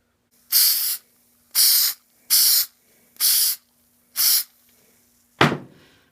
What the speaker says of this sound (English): now I have to spray both surfaces with contact adhesive